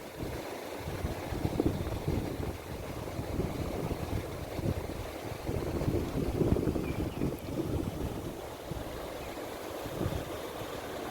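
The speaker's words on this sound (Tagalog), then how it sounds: "maririnig din, napakalakas ng hangin." Strong wind buffets the microphone in steady low rumbling gusts at the rice terraces of Mountain Province, Philippines, swelling and easing for several seconds with no voices.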